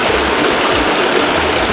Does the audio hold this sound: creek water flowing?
yes